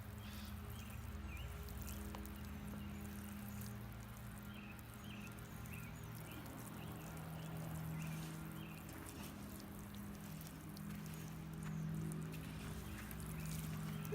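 Water pours steadily onto freshly raked garden soil in a flower bed, a continuous soft splashing and trickling close by with faint low hum underneath and no talk.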